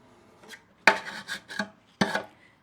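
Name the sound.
scraping loosened old finish off a dresser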